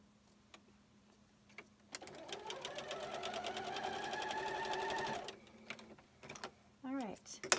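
Sewing machine stitching scrappy Valentine quilt pieces together, a steady rapid mechanical run of about three seconds with rising pitch, followed by a few clicks and a short whir as the machine stops.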